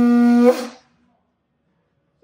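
A Māori taonga puoro instrument associated with Tangaroa, god of the sea, sounds one loud, steady, horn-like note for about half a second, then it cuts off and fades into silence.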